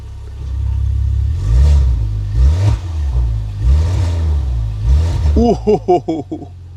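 A 2020 Maserati Levante engine in sport mode revs in several throaty swells, then fires off a quick string of sharp blips, with a voice talking over parts of it.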